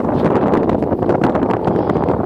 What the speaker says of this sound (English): Okay, I imagine this is windy as hell